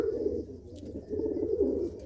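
Pigeons coo in a low, rolling rhythm, two long throaty bouts close by with a brief lull between, no talking.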